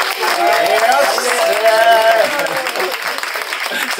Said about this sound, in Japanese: 本当にまずマギネに拍手